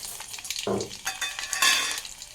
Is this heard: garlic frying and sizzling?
yes